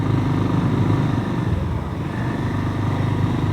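Motorcycle ridden along a narrow, slippery road, its engine a loud, close, continuous rumble with a steady pulsing texture and a slight dip in the middle, with no voices over it.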